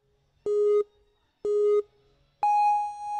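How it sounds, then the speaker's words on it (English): Electronic start tones from a NinjaWorks timing system at a kids' ninja obstacle competition sound as two identical short beeps followed by a longer, higher-pitched tone, each clear and evenly spaced about a second apart. "we use the NinjaWorks system to time and keep track of all of our obstacles, which means when you hear the following tones"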